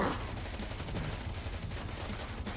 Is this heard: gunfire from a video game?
yes